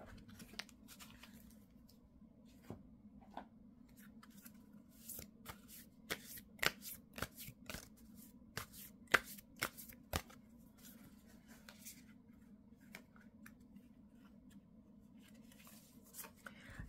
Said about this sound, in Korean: 그러면 자 다른 좋은 카드 하나만 더 뽑아볼게요